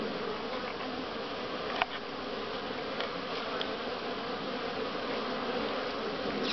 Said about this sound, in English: a lot of bee activity